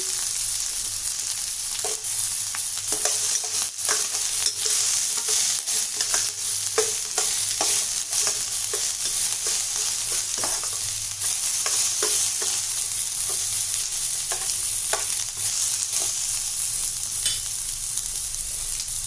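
Garlic, green chillies, onion and curry leaves sauté in hot oil in a pan, giving a steady, close sizzle with scattered spatula scrapes and stirring clicks, no voices.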